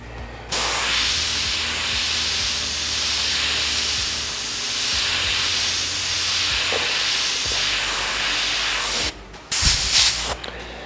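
An airbrush sprays paint onto a Suzuki Hayabusa motorcycle headlight with a close, steady hiss lasting about eight seconds. It cuts off briefly, then returns in a short louder burst.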